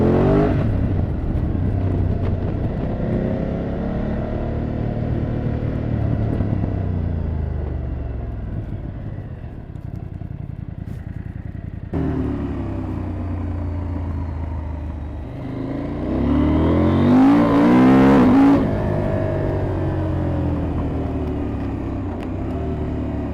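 A BMW F 900 GS parallel-twin motorcycle engine revving, rising and falling throttle blips with a pause, then a louder, sharper rev near the end, close and alone without talk.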